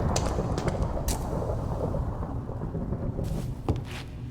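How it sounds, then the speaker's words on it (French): Minecraft thunderstorm on the Drehmal map, a constant low rumbling roar of rain and distant thunder with a few brief crackling bursts early and near the end. "Vraiment la tempête dehors."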